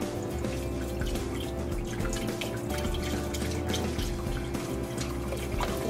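Chicken broth pours from a carton into a cooking pot, a steady, close liquid stream with splashing and dripping that runs without a break for several seconds.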